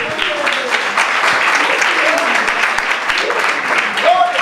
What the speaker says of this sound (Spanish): Dale otro aplauso al Rey.